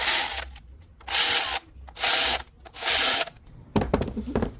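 A ratchet tightens the ignition coil bolts on a 2011 Honda CR-V in four loud, evenly spaced bursts of rapid clicking, each about half a second long with short pauses, followed by a rougher rattling burst at the end; no talking.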